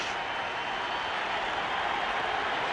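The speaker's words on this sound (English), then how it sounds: "The crowd roaring with every pitch." A big baseball crowd at a 1993 National League Championship Series game between the Braves and Phillies roars in a steady, dense wash of noise that holds level throughout with no break.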